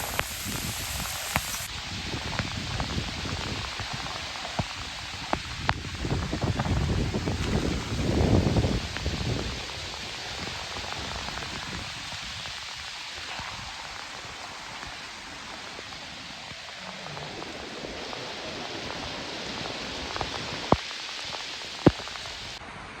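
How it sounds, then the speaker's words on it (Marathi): Heavy rain pours steadily during a fishing outing in Konkan, a continuous hiss of drops with some wind gusts and occasional sharp taps, no voices. "तर भरपूर पाऊस झाला आहे आला आहे"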